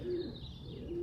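Young pigeons and a few older birds in a kit coo softly nearby, two low, drawn-out coos at the start and end with quiet air between.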